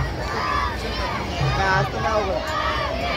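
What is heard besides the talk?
large crowd of pilgrims walking in the rain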